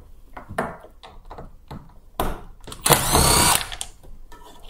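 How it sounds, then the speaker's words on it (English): A cordless power tool whirs in short bursts while backing screws out of an AEG 7000 Series dryer, with brief close buzzes and a longer final run, no voices. "So let's unscrew them."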